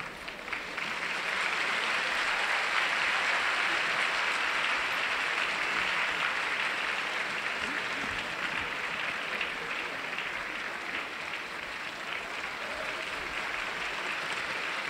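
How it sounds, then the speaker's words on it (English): Crowd at a judo Grand Slam tournament in Tokyo breaks into sustained, loud applause that swells quickly and holds steady for the whole stretch, with no voices standing out. "the crowd liked that, didn't they?"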